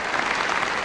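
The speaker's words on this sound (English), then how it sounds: "Certainly fulfilled the expectations of the fans here at courtside as they erupt in applause again" Courtside crowd at the 1993 Australian Open women's final between Seles and Graf breaks into loud, dense applause, a brief unbroken wash of clapping.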